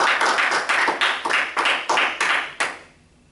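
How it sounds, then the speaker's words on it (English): A short burst of clapping with repeated sharp claps in a loose rhythm, fading out at the end; sounds like a small group rather than a large crowd. "a well-deserved round of applause"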